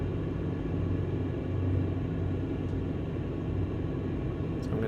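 Steady low rumbling engine drone from a helicopter lifting off into an air taxi, loud and continuous inside the cockpit, with faint brief clicks and no talking.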